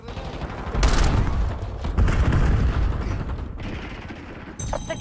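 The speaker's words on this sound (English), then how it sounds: "Lobbing cluster grenade" Call of Duty Black Ops 7 multiplayer combat with cluster grenade blasts and gunfire: heavy booming bursts and crackling volleys roll through in rough waves, loud and close, easing briefly before another burst.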